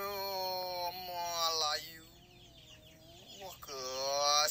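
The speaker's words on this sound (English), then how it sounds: "You could hear the chickens in the background, the roosters." Chickens cluck and a rooster crows in a drawn-out call, fairly faint, with quieter gaps between bursts.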